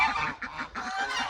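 Geese honk in a small homestead run beside a freshly dug pond, with repeated nasal calls overlapping closely and continuously at moderate loudness.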